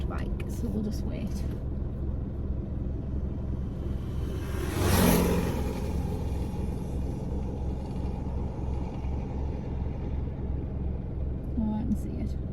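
A motorbike passes along a nearby road outdoors in fading evening light, its engine swelling briefly to a loud peak at mid-clip and then fading away, over a steady low rumble of wind and distant traffic.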